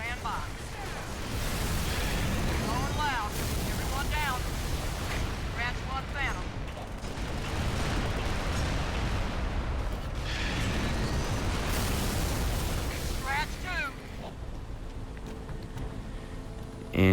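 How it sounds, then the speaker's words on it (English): Video game missiles launch and explode in a dense, continuous barrage of booms, whooshes and mechanical clatter that lasts throughout, with game voices and effects mixed in. "I don't think I showed the missiles going out too well. I mean, you can probably hear them"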